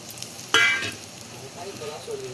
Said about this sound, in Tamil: பருப்பும் பருப்பும் காஞ்ச மிளகாயும் போடுறேன்